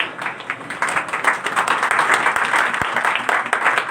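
Loud, dense applause from a church congregation on Palm Sunday, steady and continuous throughout with many overlapping claps.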